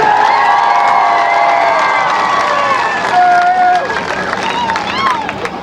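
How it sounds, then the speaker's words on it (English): Crowd cheering and shouting at a monster truck best trick competition, a loud sustained roar of many voices with whistles and rising yells, fading slightly toward the end. "How cool is it for you when you hear a crowd react like that"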